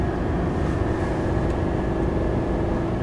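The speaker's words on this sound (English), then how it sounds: "I want to show you guys the downshifts." A 2024 Chevy Silverado 3500 with the gas L8T engine tows a fifth wheel at about 45 mph, giving a loud, steady drone of engine and road noise with no distinct shift audible.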